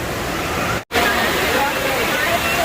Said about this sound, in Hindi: आप देख सकते हैं वाटर फाउंटेन हो रही है